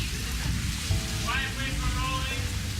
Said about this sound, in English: my earlier assessment that it might rain turned out to be correct, because now it's rained pretty hard